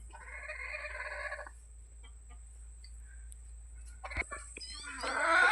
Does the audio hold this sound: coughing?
no